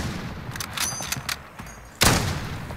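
AX50 sniper rifle shots in a video game, a few sharp cracks with a louder blast near the end, close and alone without talk.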